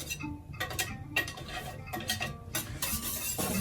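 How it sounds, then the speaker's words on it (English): Steady metallic stirring and whisking of milk in a pot as it comes to a boil, with repeated scraping clinks and a faint bubbling hiss underneath. "you have to keep beating until it boils"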